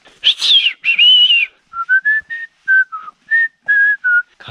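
A person practises whistling on a mountain trail in the Shirakami range, with loud, close tones: two longer wavering notes, then a string of short, fairly steady notes separated by brief gaps.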